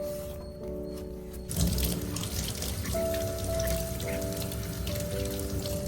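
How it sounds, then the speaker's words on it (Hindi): Dirty water runs steadily from the bottom drain knob of a washing machine during a deep clean, a continuous splashing trickle with faint dripping, close by and moderately quiet. "वॉशिंग मशीन के नीचे ना एक नॉब होता है जिसमें से पानी आप खोलोगे तो आराम से इट्स नॉर्मल निकलेगा"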